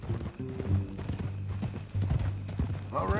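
Horse hooves clip-clop steadily in Red Dead Redemption 2, a near, rhythmic run of hoofbeats with a faint game-world bed behind them.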